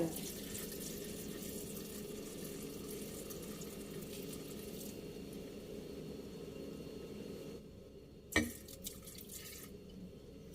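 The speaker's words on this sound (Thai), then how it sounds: "ใส่น้ำส้มลงไปนะคะน้ำแอปเปิลไซเดอร์" Apple cider vinegar pours into a glass jar for Turkish-style cucumber pickles, a faint, steady trickle lasting about eight seconds before a single knock and quiet.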